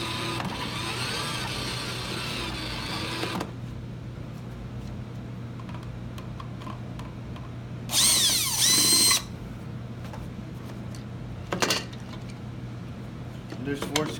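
A power screwdriver removes screws from a 12V toy BMW ride-on motorcycle, whirring in a long opening burst and a shorter loud burst later. Faint handling clicks and rattles fill the gaps between them.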